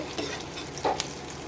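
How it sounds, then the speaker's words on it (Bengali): Onions with cumin seeds lightly frying in a pan for an egg and potato fry, a soft steady sizzle with a couple of brief stirring scrapes. "পেঁয়াজটা আমি হালকা হালকা করে একটু ভেজে নেব।"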